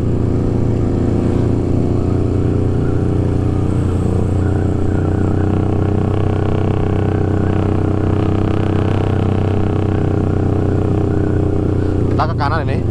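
A loud motorcycle engine, a single-cylinder four-valve liquid-cooled type, runs steadily throughout, its low rumble constant and close, with a brief rising rev near the end.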